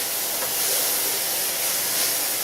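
Vegetables sweating in butter in a soup pot give a steady, close sizzling hiss that holds evenly throughout with no talk over it.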